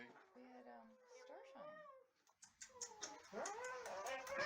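A kitten meows and cries repeatedly while being held still for a first vet visit, giving close, rising, drawn-out wails as people talk soothingly over it.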